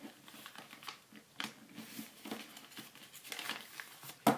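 A sheet of paper being folded in half while making an origami chomper gives quiet, close crinkles and soft creasing rustles in short scattered bursts, ending with one sharper crackle.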